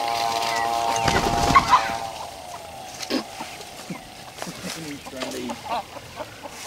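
Chickens cluck and squawk nearby in a backyard coop area, several short calls scattered through the stretch over a low rumble, with someone speaking at the start.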